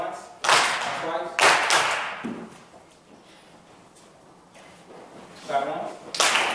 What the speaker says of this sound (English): Clap once, clap twice.